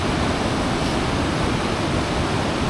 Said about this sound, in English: waterfall's proving a hard one today because of the amount of flow we've got on it